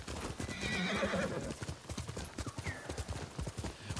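A horse neighs and whinnies, then gallops in Ghost of Tsushima: a drawn-out whinny up front followed by a quick, rhythmic clip-clop of hooves close by, with faint game sounds around it.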